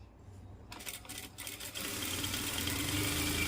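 A sewing machine stitches lace onto the edge of a saree, a steady mechanical whir that starts in short pulses and then settles into a continuous fast hum, fairly faint.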